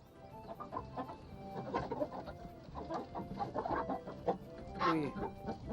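Chickens clucking close by in a poultry shop, a busy run of overlapping clucks and squawks with a faint murmur of voices in the background.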